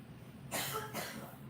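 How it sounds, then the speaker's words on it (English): A single short cough, close and abrupt, in an otherwise quiet room. "He's coughing."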